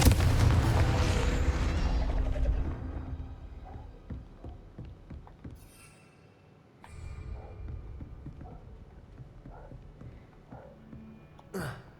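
Confringo fire spell explosion in the Hogwarts Legacy video game, a loud booming blast at the start that fades into a rumbling tail, followed by scattered quieter impacts and faint game sounds.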